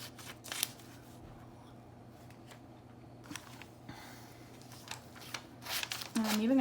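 Scissors snip through glossy magazine paper as food pictures such as carrots are cut out, heard as sparse, faint cuts and paper rustles over a quiet room hum, with a brief voice-like sound near the end.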